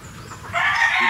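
Breeding hens cluck and squawk nearby, a short burst of loud, raspy hen calls with no one speaking.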